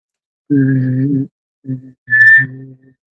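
A voice imitates a strange buzzing whistle: a few short, reedy, electric-sounding tones with a higher whistle on top, close and clear.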